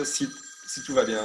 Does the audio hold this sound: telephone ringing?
yes